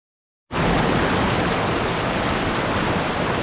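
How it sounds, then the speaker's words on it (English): Cypress Falls in West Vancouver roars as a steady, dense rush of falling water that starts abruptly and stays loud and constant, filling the space with no voices. "This is the second waterfall."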